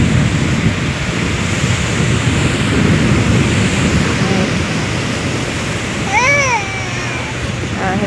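Strong wind roars steadily over the crashing surf of waves on Porbandar's Chowpatty beach, with a brief high bird-like call near the end.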